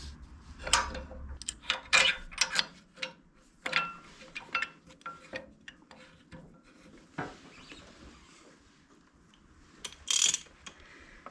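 Clicking ratchet mechanism tightening caliper bolts, 3/8 Allen, on a Nova/Camaro subframe brake setup: a series of short sharp ratcheting bursts with pauses between, near and fairly loud, ending with another quick burst.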